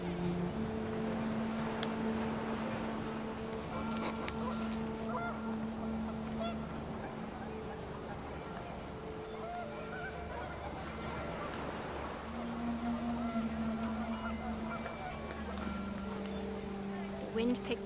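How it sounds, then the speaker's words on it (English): Panicked geese honk in the game What Remains of Edith Finch, scattered calls over steady wind and ambience, heard alongside talk throughout. "The wind picked up, and panicked geese appeared and quickly went."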